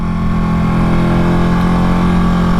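A Ducati sport bike engine hums steadily and loudly up close while riding the winding Tail of the Dragon road, a constant drone with no change in pitch and no talk.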